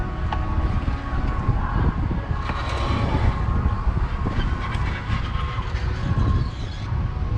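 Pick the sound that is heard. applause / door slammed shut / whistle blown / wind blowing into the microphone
wind blowing into the microphone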